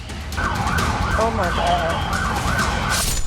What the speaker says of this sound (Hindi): पुलिस की गाड़ियों का सायरन और ये बैरिकेडिंग।